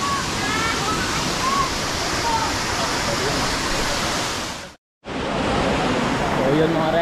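Balon Falls waterfall in Antipolo, Rizal, pours with a loud, dense, steady roar of rushing water, broken by a short gap near the end, while voices talk faintly over it.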